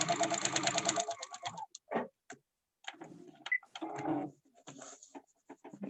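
A sewing machine stitches a paper-pieced quilt seam in rapid bursts, a steady whirring chatter at first, then short stop-start runs separated by brief pauses, heard close and alone.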